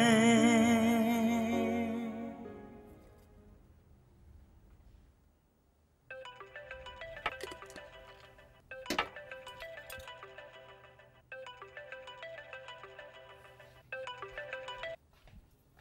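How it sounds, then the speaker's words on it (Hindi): A mobile phone ringtone plays in repeated melodic bursts while the call goes unanswered, ringing on after a stretch of fading music and a brief pause. "इतनी देर से फोन कर रही हूँ, फोन क्यों नहीं उठा रहे थे?"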